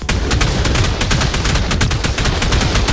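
Automatic turret fire in ARK: Survival Evolved rattles as a loud, rapid, continuous burst of gunshots with no pauses and no voices.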